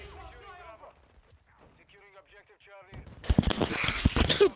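Rapid gunfire from the video game Modern Warfare 2 bursts in loudly for the last second and a half, after a stretch of voices talking.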